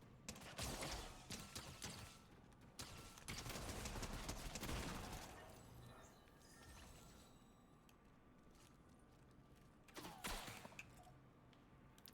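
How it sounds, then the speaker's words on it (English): Gunfire in the Fortnite video game rattles in dense, loud bursts for the first several seconds, then fades into quieter mechanical clicks and creaks before another short burst near the end, with no voices. "Somebody's shooting at me."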